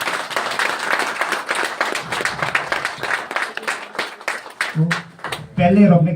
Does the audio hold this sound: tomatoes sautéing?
no